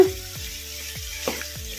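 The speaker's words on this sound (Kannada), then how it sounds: "ಮೀಡಿಯಂ ಫ್ಲೇಮಲ್ಲಿ ಇಟ್ಕೊಂಡು ಫ್ರೈ ಮಾಡ್ಕೊಂಬಿಡೋಣ" Steady sizzle of chicken frying in masala in a pan over medium flame, with a few rhythmic scraping strokes, close and continuous, no voices.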